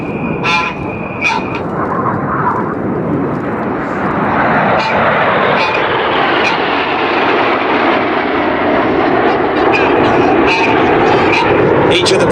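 Red Arrows jets fly an aileron roll during the Revolution manoeuvre at an air display over Cambridgeshire, a loud continuous roar that swells and sweeps past, with a commentator talking over it throughout.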